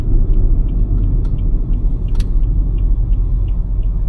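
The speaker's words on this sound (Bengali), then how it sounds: "যা নয়েজ শুনতেছি টায়ার নয়েজ" Steady low road rumble from the tires inside a 2017 Toyota Premio while driving, with no engine sound on top, a broad continuous drone throughout and a faint brief tick near the middle.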